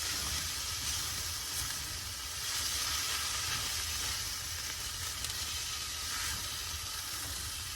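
Beef mixture stirred in a pan on low heat gives a steady, close sizzle with soft scraping, an even hiss running throughout with no talk.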